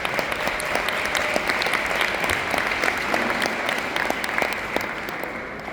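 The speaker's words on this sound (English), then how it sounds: "Let's give our Germany Pegasus a very big round of applause." Audience applause at a training seminar in Budapest, a steady wash of many hands clapping throughout, loud and sustained with no pauses.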